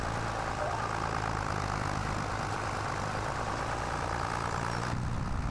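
A tractor engine drones in a farming video game, a steady low idling rumble that holds unchanged from start to finish with no other sounds.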